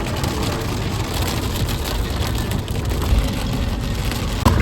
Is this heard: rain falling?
yes